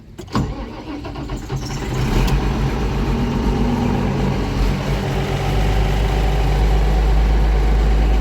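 An old diesel tractor engine cranks and catches, then settles into a loud, steady rumbling idle, close up, on a dairy farm.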